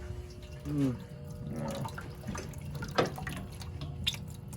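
Water trickling and dripping from a drain valve on a Burnham Independence steam boiler during annual heating maintenance, a thin uneven flow with small splashes at close range and a brief louder burst near the middle.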